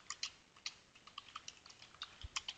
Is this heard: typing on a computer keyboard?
yes